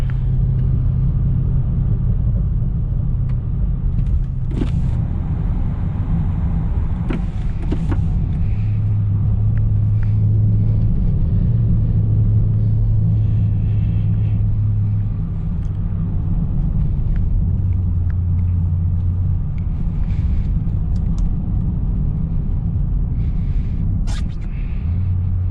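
A 2010 Volvo XC90 V8 SUV drives on snowy roads, with a continuous low engine and road rumble heard from inside the cabin and occasional light knocks and clicks over it.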